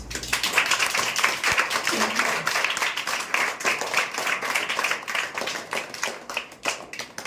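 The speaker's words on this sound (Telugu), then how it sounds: "క్లాప్స్" A crowd of students claps for their teachers at an academic fair, giving dense, continuous applause that holds steady for several seconds.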